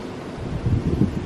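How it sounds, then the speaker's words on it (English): Low, blustery wind buffeting the microphone, a steady rumbling roar that swells slightly toward the end. "And it's very windy."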